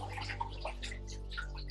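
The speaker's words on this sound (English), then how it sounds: "a lot of water is going to come out of this can." Water pours and splashes out of a crushed aluminum can as it is lifted from a container of water, a close, steady trickling and gurgling with small drips, heard alone.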